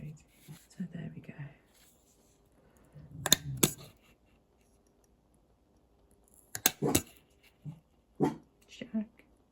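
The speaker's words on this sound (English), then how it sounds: "I think my dog is a bit grumbly at the moment" A dog grumbles low in the background of a bookbinding workspace, in short uneven bursts between quiet stretches, mixed with sharp clicks and taps and a soft voice.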